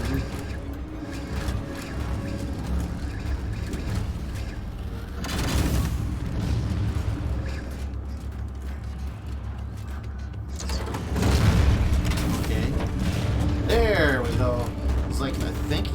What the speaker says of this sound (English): Okay, I'm firing rockets.